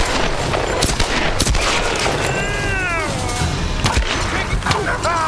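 Pistol gunfire in Tomb Raider: Definitive Edition: several sharp, close cracks scattered unevenly through a dense, busy game mix, with wavering cries rising between the shots.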